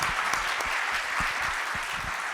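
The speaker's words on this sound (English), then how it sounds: "Give them a huge round of applause once again." A panel audience at a breakfast briefing on Ramadan advertising and media gives dense, sustained applause, steady and loud throughout, many hands clapping at once with no voices standing out.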